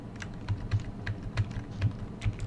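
Someone presses function keys on a computer keyboard, a quick string of close, distinct clicks in an uneven typing rhythm, about a dozen presses over a low background hum, with no speech.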